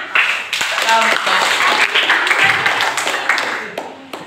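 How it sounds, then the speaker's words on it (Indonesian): A classroom group applauds a presenting team, with dense clapping from many hands filling several seconds, mixed with voices and chatter throughout. "Kita kasih tepuk tangan untuk kawannya."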